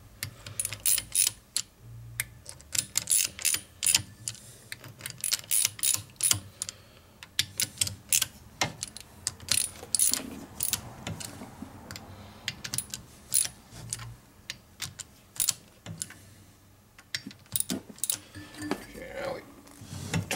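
Rapid, irregular clicking from a torque wrench tightening bolts on a 1992 Harley FXR Evolution 88ci motor during a rebuild, close and crisp, sounding in quick bursts with a low hum underneath.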